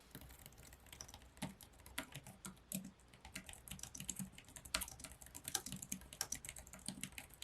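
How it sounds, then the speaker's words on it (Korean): Steady, fairly quiet typing on a Logitech K380 low-profile wireless keyboard, soft rapid key clicks in an uneven rhythm with occasional slightly louder taps, no voices. "타건수를 들려드릴게요."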